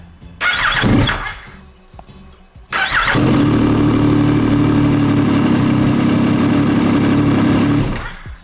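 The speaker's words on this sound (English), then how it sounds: "the bike starts" A Yamaha MT-09 motorcycle with a quickshifter fitted cranks briefly, cuts out, then fires on the second try and settles into a loud, steady idle before the sound trails off.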